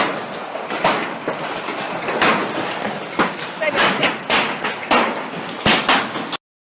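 Massive hailstones the size of tennis balls pound a shed roof in loud, irregular thumps and crashes, close and heavy, with a voice talking over them.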